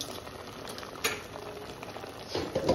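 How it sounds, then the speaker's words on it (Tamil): A spiced mixture with salt is sautéed in a clay pot. Soft, continuous bubbling sizzle sits close by, with a few brief scraping stir strokes and a livelier stir near the end. "உப்பு போட்டு நல்லா வந்து வதக்கணும்"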